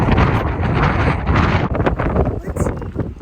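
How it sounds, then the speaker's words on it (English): Strong gusting wind buffets the microphone outdoors beside a car during a severe Indiana wind storm, a loud continuous roar with surges, under brief talk. "Oh wow, it's so windy."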